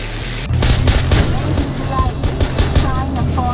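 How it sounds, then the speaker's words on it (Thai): Gunfire in Far Cry 4, a burst of loud shotgun-like blasts that opens sharply and continues as rapid, overlapping shots and crackling impacts, up close, under faint game sounds. "ยิงไปเลยช็อตกัน"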